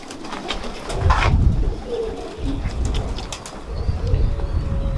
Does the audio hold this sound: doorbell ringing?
no